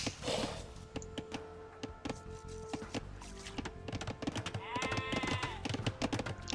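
Sheep in Age of Empires II bleat against a busy game soundscape of chopping and clicking effects, with a clear bleat near the end.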